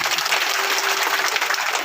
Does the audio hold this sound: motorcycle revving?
no